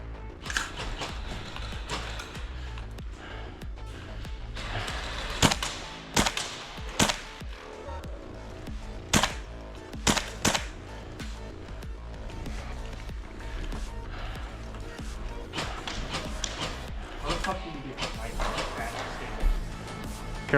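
GHK gas blowback airsoft rifles fire during a milsim tournament at an abandoned school, with sharp cracks and short volleys scattered at varying distances while players talk and shout.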